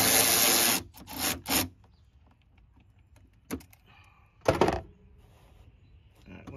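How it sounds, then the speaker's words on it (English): Hose clamps being loosened on a Honda air intake: a few short scraping, clicking metal-on-rubber bursts of tool work, close by and separated by quiet pauses. "Once you loosen up these clamps,"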